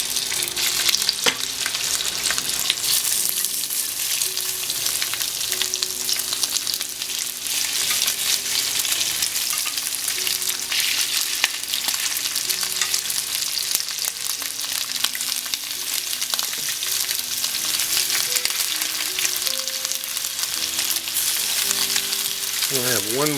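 Lamb chops fry in cheap olive oil in a hot pan, a loud, dense, unbroken sizzle that holds steady close up for over twenty seconds, with faint background tones.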